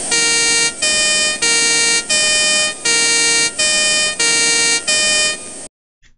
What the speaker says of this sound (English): this one is the sound like a freight truck siren.